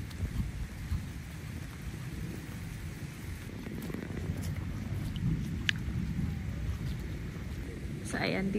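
Rain falls steadily outdoors at a national shrine with a picnic ground on a windy, overcast day, making a constant close hiss with scattered drop taps and no break.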